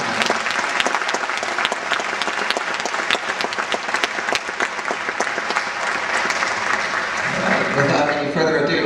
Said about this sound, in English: Let's have a round of applause, please, for Mr.